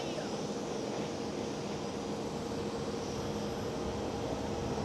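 A Boeing 787 airliner lining up at Schiphol Amsterdam airport, a steady distant broadband jet roar holding evenly throughout, faint and unbroken.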